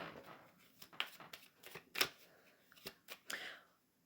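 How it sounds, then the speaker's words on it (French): Tarot de Marseille cards are laid out on a table, giving soft, separate flicks and slaps with quiet pauses between them. The sounds are faint and close, and no one speaks over them. "on va essayer de mettre quelques cartes du tarot de Marseille là"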